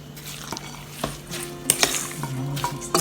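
Breadcrumbs mixed into ground chicken for homemade nuggets in a bowl, producing soft, close squishing and scraping strokes with a few light clinks of a utensil, quiet and steady, with no talking.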